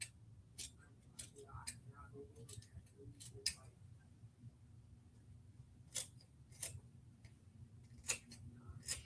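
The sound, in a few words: scissors trimming fabric cut for puff embroidery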